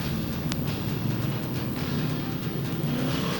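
SK Modified race cars roll along at Stafford Speedway, their engines making a dense, continuous roar that stays fairly steady and distant, with no voices.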